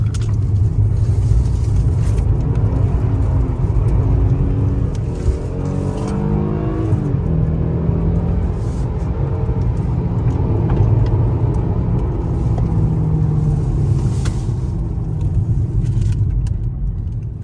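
A Genesis G80 3.8 rear-wheel-drive sedan on the move, its engine droning loud and steady with shifting revs and some rising and falling pitch, heard from inside with road rumble and no talking.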